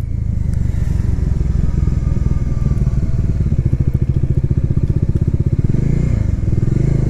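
A heavy Dominar motorcycle engine-braking downhill on a mountain road with the clutch fully released, giving a loud, steady, close rumbling drone with rapid pulsing throughout and no talk.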